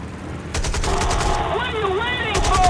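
Aircraft machine gun fire in the Birds of Steel video game: rapid repeated bursts of gunshots over a droning engine and whining tones, loud and close.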